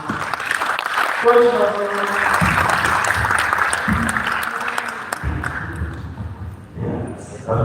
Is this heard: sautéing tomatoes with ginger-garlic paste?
no